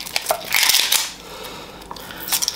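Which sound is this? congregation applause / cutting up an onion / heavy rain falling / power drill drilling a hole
cutting up an onion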